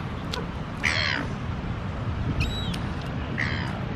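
Seagulls squawk outdoors in a city, three harsh cries spaced about a second apart above a constant rumble of wind and background noise.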